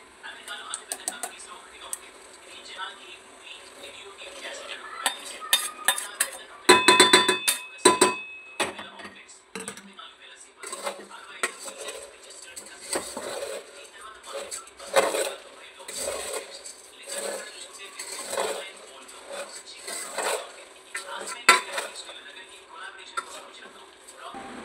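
Puffed rice is tossed and stirred with seasoning in a pan, giving a long run of light scraping and irregular clinking of a spoon against metal, some bursts louder, with occasional voice.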